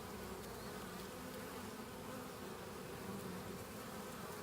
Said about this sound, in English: There's tons of bees in here.